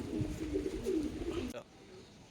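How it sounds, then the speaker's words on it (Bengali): A pair of Kalanka pigeons coo in low, rolling phrases close by for about a second and a half, then fall quiet, with outdoor noise in the background during rain. "এই যে আরেক জোড়া পায়রা বন্ধুরা,"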